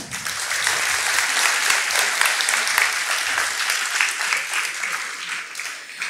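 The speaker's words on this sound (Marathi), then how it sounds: "ह्यांच्यासाठी खास विशेष टाळ्या द्या" Loud, sustained applause from a sizable audience at a historical music and dance performance, dense and steady clapping throughout with no talking.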